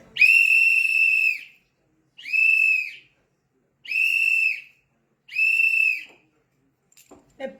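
Four long, steady whistled tones in a row, each about a second with short gaps, clear and fairly close, followed by a few faint clicks and knocks at the end.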